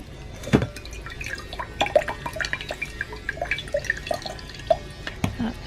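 Water drips and trickles out of potted plants sitting in decorative cachepots on a balcony, with irregular splashes and droplets of varying loudness falling steadily. The pots have been overwatered.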